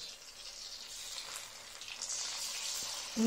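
Soft oil sizzling as prawn-stuffed fritters fry in a pan, a quiet steady crackle that grows slightly louder toward the end.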